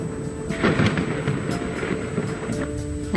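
Thunder sound effect with rain, a loud, continuous rolling rumble with a heavier crack near the start, under a steady wash of rainfall noise.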